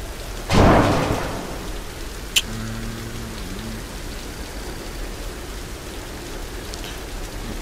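Rain falls steadily through a Tomb Raider video game scene while a close thunderclap booms early on, with a sharp crack and a faint tonal hum over the constant downpour.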